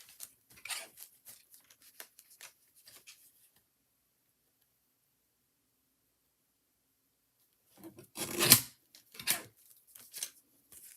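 Scissors trimming ribbon from a scrap box during a stamping craft session give a few quick close snips and rustles, after a stretch of near silence.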